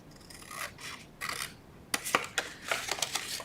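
Scissors snip and rasp through a folded paper flap on a craft project, a few soft scraping strokes followed by several sharper close cuts.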